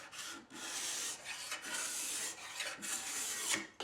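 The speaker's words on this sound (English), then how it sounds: "flip the card scraper over to the finer edge to further clean up the wood" A card scraper drawn across wood, stripping paint and old finish on its finer edge; close, steady rasping strokes follow one another with brief breaks between passes.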